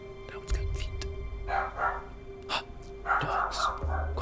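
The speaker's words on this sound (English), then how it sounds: "Dogs. Quiet down. Chill out." Dogs bark in short bursts a few times in a room behind a gaming commentary setup, while someone talks over them close to the microphone.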